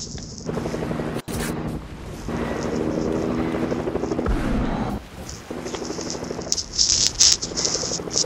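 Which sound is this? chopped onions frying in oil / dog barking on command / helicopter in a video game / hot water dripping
helicopter in a video game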